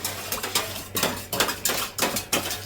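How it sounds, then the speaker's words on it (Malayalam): A spoon stirs a pot after sugar has been added, giving close, rhythmic metallic scrapes and clinks in roughly six quick strokes against the pan. "ഇനി പഞ്ചസാര ഇടാം നമുക്കിനി ഇളക്കാം"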